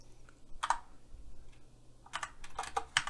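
Keys tapped on a computer keyboard while entering a sudo chmod command, with an isolated keystroke followed by a quick cluster of clicks, fairly close and soft.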